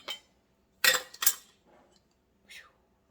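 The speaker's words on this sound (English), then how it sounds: "So what you're going to do is put your lids on here." Metal canning lids set onto hot glass jars of homemade caramel: a few sharp metallic clinks and clatters, with quieter scraping between them and one last lighter clink after a pause.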